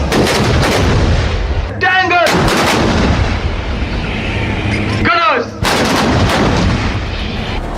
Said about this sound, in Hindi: पाकिस्तान की लाइव फायरिंग के बीच न्यूज 24 के रिपोर्टर एलओसी के आखिरी गांव कस्बा केरनी पहुंचे